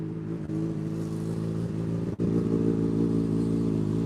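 A loud dirt bike engine idles roughly with steady low rumble, then rises slightly in a brief rev, running continuously without voices.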